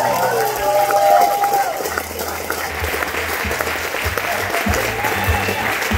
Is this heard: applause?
yes